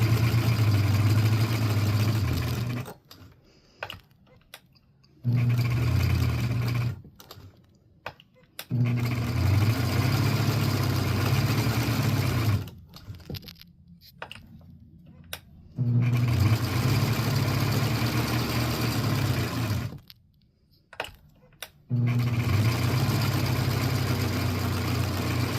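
A sewing machine stitching a teabag bookmark runs in loud, steady bursts of whirring, stopping and restarting several times with short quiet pauses between runs.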